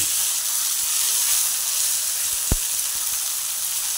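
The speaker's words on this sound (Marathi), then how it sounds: "आता याच्यात आपण टोमॅटो घालून घेऊ आणि टोमॅटो पण चांगलं परतून घेऊ." Tomatoes sautéing in oil in a pan for chana masala, a steady broadband sizzle holding throughout with one brief sharp tap near the middle, moderately loud and without talk.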